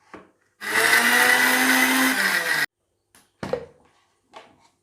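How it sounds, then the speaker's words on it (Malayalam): An electric blender grinds fried onion, cashews and almonds with water in a loud, steady whir lasting about two seconds, then stops abruptly and is followed by a few clunks and knocks. "വറുത്ത് വെച്ച സവാള, അണ്ടിപ്പരിപ്പ്, ബദാമും കുറച്ച് വെള്ളം ഒഴിച്ചിട്ട് അരച്ചെടുക്കാം."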